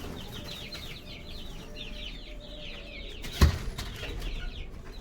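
Chickens released from their coop cluck in a quick chattering series, with a sudden sharp burst of wing-flapping midway as the birds scramble out, over a faint background hiss.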